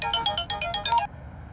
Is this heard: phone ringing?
yes